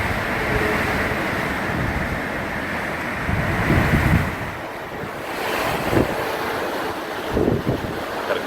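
Hurricane Irma beachside at night: steady roaring surf and heavy wind buffeting the microphone, with stronger gusts swelling several times, loud and continuous with no voices.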